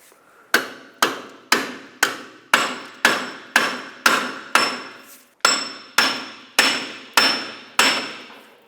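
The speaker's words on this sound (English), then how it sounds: "because I'm having trouble removing this wheel bearing when I hammer" A hammer strikes metal fourteen times in an even, forceful rhythm, driving out a rear wheel bearing hub assembly on a 2007-2010 Chrysler Sebring. Each sharp, ringing clang decays before the next, with one brief pause midway.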